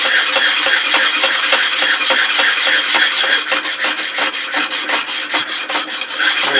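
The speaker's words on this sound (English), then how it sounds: "So I'm going to keep on sanding on this." A hand plane being sanded by hand, a harsh rhythmic rasp of abrasive against metal that is continuous at first and then breaks into quick regular back-and-forth strokes, close and loud with no talking.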